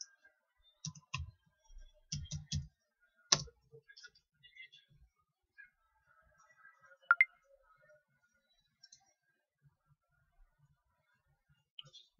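Sparse computer mouse clicks on a website button, a few quick doubled clicks early on, then scattered faint ticks and a sharp click pair midway against near silence, no talking.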